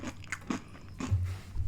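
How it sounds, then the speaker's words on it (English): Crisp crunching bites into fried chicken, several quick crackly bursts close to the mic followed by soft chewing, with no talking over them. "Y'all hear that crunch?"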